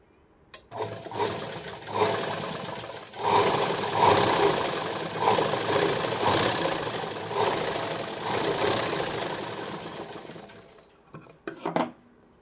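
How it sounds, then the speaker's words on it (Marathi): A sewing machine runs in steady bursts while stitching tucks on a blouse. Its close, even whirring comes in several runs with brief pauses, and a few quick clicks are heard at the end. "अशा पद्धतीने शिलाई मारून घ्यायची एकदम कडेला"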